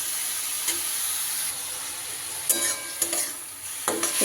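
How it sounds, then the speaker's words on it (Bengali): Grated radish with spices and salt is stirred in a hot pan for a paratha filling, giving a quiet steady sizzle broken by a few sharp scrapes and knocks of the spoon against the pan. "একটু নাড়িয়ে চাড়িয়ে নুনটা মিশিয়ে দিলাম"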